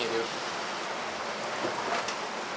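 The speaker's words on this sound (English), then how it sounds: "And it's still pouring rain." Heavy rain keeps pouring on the American Discovery Trail as a steady close hiss, with faint voice-like sounds briefly over it.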